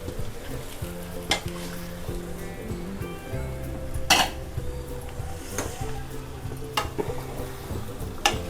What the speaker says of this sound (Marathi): हलक्याच हाताने हलवून घ्यायचे, नाही तर मासे तुटतात मग.